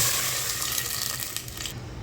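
Water poured into a cooking pot for ghee rice with prawns: a continuous splashing rush lasting about two seconds, close and fairly loud, ending abruptly with no voices.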